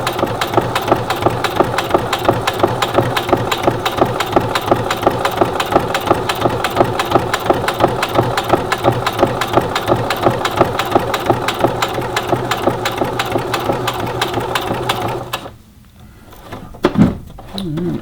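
A Singer Heavy Duty 6800C sewing machine stitching leather at its longest stitch length, a steady loud mechanical chatter running nearly nonstop up close, then stopping abruptly before a brief clunk.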